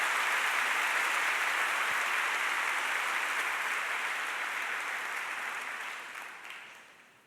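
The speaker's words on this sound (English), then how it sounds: "let's just give them a round of applause" Steady round of audience applause at a 2019 superintendent's staff kick-off event, fairly distant and even, holding for several seconds before fading out at the end.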